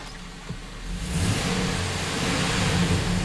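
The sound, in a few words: Chevrolet Silverado engine revving up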